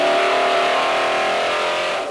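The Rothmans Bronco rally car's engine revs hard with a loud, sustained harmonic drone that holds steady and then eases slightly at the end, close up with no talking.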